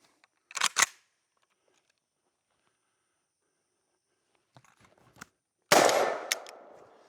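Vepr 12 short-barrel semi-automatic shotgun firing Winchester White Box 7.5 shot at a range: a sharp double crack early, some faint clatter, then a loud close blast with a ringing tail near the end.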